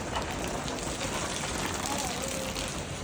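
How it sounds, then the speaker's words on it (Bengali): Steady rain falls over the Postogola cattle market beside the cremation ghat, with cattle and traders gathered, a dense even hiss of drops running unbroken for the whole stretch as the shower begins to ease. "বৃষ্টিটা এখন একটু কমছে"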